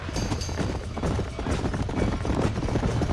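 A horse gallops in the video game Red Dead Redemption during a barn fire, a loud, continuous run of hoofbeats under dense background noise.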